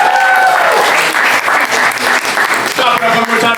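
Loud, dense audience applause fills a comedy show crowd, steady throughout with cheering mixed in and a voice briefly over it.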